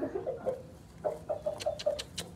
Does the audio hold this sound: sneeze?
no